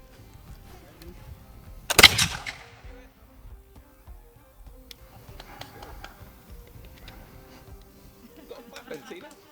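A single loud matchlock musket shot cracks near the start, followed by a decaying rumble, with crowd murmur and quieter spectator noise around it, at Glastonbury Abbey.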